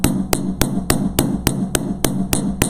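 A hammer planishes metal beading wire on a steel bench block, ringing metallic strikes repeating about ten times at a steady, even rhythm, close and loud.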